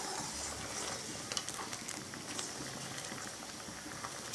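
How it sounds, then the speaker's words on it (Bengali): Masoor dal with green tomatoes bubbles in a pot, a steady soft boiling patter with small pops, close and continuous, with no voices. "এই যে টমেটো সিদ্ধ হয়ে আসছে"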